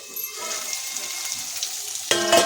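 Khichdi ingredients frying in oil in a home kitchen, a soft steady sizzle with faint crackle throughout, ending in a brief louder clatter.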